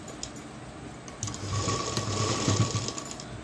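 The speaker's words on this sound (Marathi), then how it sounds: "तर आता मी फिटिंग करताना एक एकच शिलाई मारून दाखवते" A sewing machine runs a single line of stitching on a blouse during a fitting, a steady mechanical whir that builds in the second half and holds at moderate loudness, with no talking.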